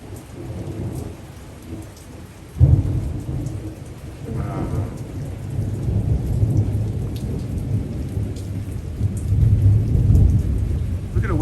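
A thunderstorm with lightning rolls over Los Angeles: steady rain hisses, then a sudden close crack of thunder gives way to a long, swelling rumble under the downpour.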